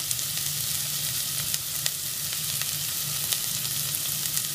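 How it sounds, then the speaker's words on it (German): Onion and garlic sizzle steadily in a pan for a curry sauce, a continuous close frying hiss with a few small pops and crackles and no voices. "Das lasst ihr ein wenig anbrutzeln."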